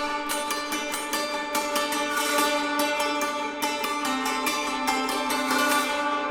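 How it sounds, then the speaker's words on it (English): Hammered dulcimer in a pop production rings out in quick, shimmering struck notes, a dense flow of bright metallic strikes and sustained string resonance, played alone and up close. "the first thing worth noting is the hammer dulcimer"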